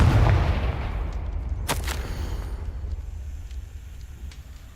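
Confringo blasting spell going off in Hogwarts Legacy: a loud low boom at the start that rumbles and fades, with a sharp burst at about the second mark, then a long dying tail.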